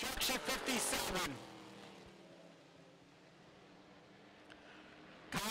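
Street stock race cars roar loudly past on an oval track at the Lancaster Motorplex, then fade into a distant engine drone before another car bursts in close at the very end.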